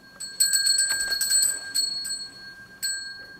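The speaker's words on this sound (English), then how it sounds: "you will hear the tinkling of the bells" Small bells tinkle brightly in a cluster of quick, ringing strikes that ebb and return, close and clear, with no talking.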